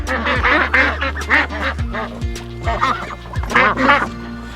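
Farm meat ducks quacking loudly and close, a busy chorus of repeated raspy calls in clustered bursts, with honking tones over a low background hum.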